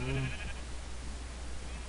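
A single short sheep bleat in a Minecraft modpack, heard at the start over a steady low background hum, then only the hum remains.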